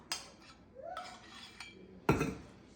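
Spoon scraping and clinking against a bowl while stirring a packed brown sugar topping for meatloaf, a few short close metallic knocks and scrapes with no speech.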